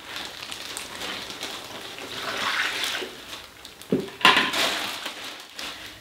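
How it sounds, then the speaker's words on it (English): Roughly a cup of water is poured into a plastic bag of rock-hard pottery clay, a steady close splashing rush that swells into louder sloshing and crinkling bursts near the end, with no voices. "according to Flo, we only need about a cup of water for rock hard clay"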